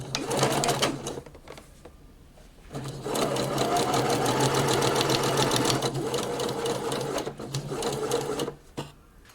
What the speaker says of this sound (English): I'm going to go back, back on the sewing machine here, make sure this is nicely lined up, and I'm going to close my side seam.